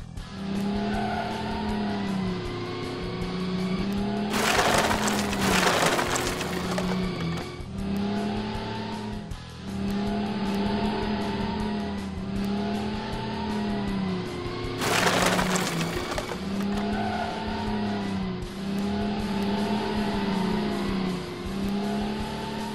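Toy McQueen race car in a racing game for kids, with engine revving steadily in rising and falling waves, loud and close, broken by two bursts of tire squeal and skidding. The sound runs throughout with no talk.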